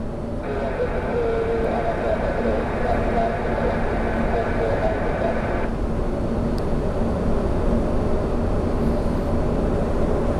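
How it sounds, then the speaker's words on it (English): An Amerijet cargo jet takes off at Orlando International Airport, a loud broad engine roar heard from a distance that holds steady with a higher whine fading partway through. "So we'll get the Amerijet take off"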